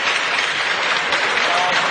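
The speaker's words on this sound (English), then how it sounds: "huge round of applause to these guys for making this happen today" Audience applause for the coaches at a state championship gathering: dense, even clapping from a sizeable crowd, loud and continuous throughout the short stretch.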